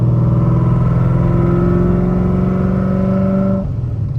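A Ford Mustang V8, recently fitted with new heads and cam, revs loud and close with an uneven, lumpy note from a weak misfiring cylinder, holding steady before the revs drop off near the end.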